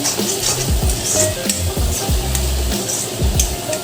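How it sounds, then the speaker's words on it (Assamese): A spoon stirs salted fish curry masala in a pan, giving close, rhythmic scraping and clinking over a soft, continuous sizzle of the simmering gravy. "ভালদৰে লৰাই দিব।"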